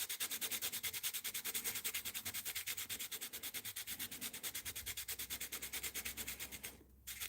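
Steel guitar pick rubbed on 400-grit abrasive in a workshop: rapid, steady back-and-forth scratchy strokes, close and loud, about a dozen per second, continuing unbroken and briefly pausing near the end.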